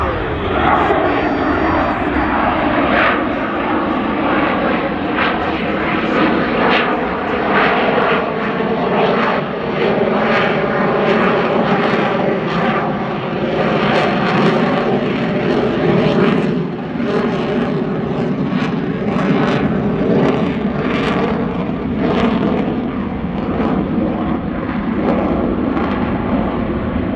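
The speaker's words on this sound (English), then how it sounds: "lights those afterburners and climbs straight into the vertical" An F-22 Raptor at the Dayton Airshow roars loudly and continuously with a rough, crackling afterburner rumble as it climbs vertically, staying close and intense for the whole stretch, with an announcer's voice underneath.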